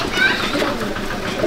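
Pigeons coo softly at a breeding setup housing Madrasi and black-eyed birds, a short close burst of murmuring calls.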